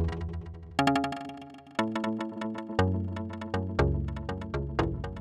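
Plucked synth notes repeat through a Chronoblob2 delay in smooth fades mode as the delay time changes, echoes crossfading cleanly instead of bending in pitch; rhythmic, moderately quiet phrases with no voices.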